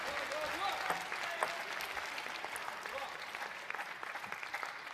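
Crowd applause fills an indoor arena at a WTT Champions table tennis match in Incheon, a steady wash of clapping with scattered cheers and voices mixed in.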